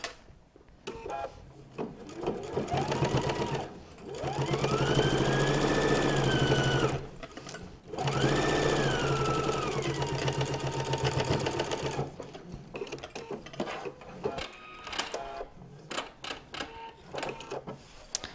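A sewing machine runs in two sustained bursts of stitching on a fabric notebook holder, with short pauses and quieter handling between runs, close and steady.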